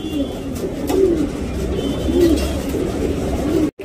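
A pigeon coos in low, rolling phrases, repeated several times close by and fairly loud, with no talk over it.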